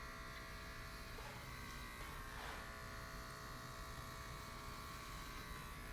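Electric hair clippers hum steadily while shaving a man's head bald, a constant close buzzing drone with no pauses and no talking heard.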